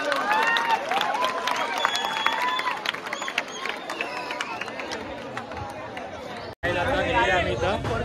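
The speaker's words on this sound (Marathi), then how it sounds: "सर्वांनी पुन्हा एकदा जोरदार टाळ्या वाजवा." At a Gokulashtami govinda troupe event, a crowd claps and cheers for a band troupe in a lively burst of applause, with chatter and raised voices throughout.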